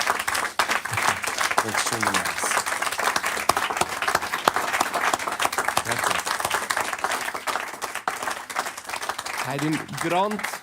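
Live studio audience applauding a performer at a lounge music showcase, steady clapping through the whole stretch with voices and a host's speech briefly rising above it.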